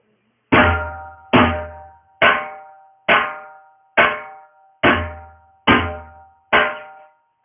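A dhol drum plays one slow rhythm cycle of eight evenly spaced strikes, each a loud, close hit with a deep booming low end and a ringing tone that decays before the next, with no talking.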